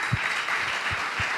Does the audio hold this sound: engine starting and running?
no